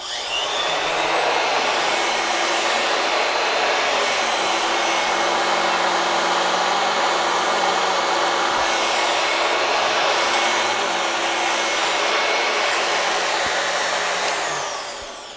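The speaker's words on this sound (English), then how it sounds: "Let's vacuum a little bit with this." A 30-year-old Kirby upright vacuum cleaner roars continuously at a steady, loud pitch for the whole stretch, with no voices over it.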